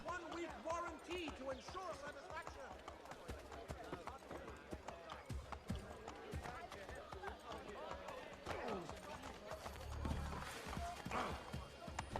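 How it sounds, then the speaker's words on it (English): Galloping horse hooves in Assassin's Creed 3, a steady clip-clop running under dense game sound, music and talking voices throughout. "Run some people over with the horse."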